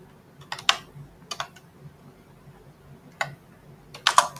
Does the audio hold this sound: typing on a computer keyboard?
yes